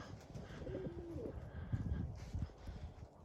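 Tumbler pigeons coo softly outdoors as they come down to land, a few faint low warbling calls amid rustling and distant background noise.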